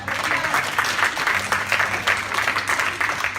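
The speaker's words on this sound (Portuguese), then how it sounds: "Glória a Deus, aplauda o Senhor." A church congregation applauding during a service, a loud, steady wash of many hands clapping, with a low hum underneath.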